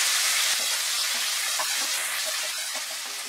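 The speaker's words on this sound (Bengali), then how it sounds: "মিডিয়াম আঁচে পেঁয়াজটাকে ফ্রাই করব, একটু সময় লাগবে, 3-4 মিনিট।" Chopped onions fry in a pan over medium heat, giving a loud, continuous close sizzle with faint crackles that eases slightly toward the end.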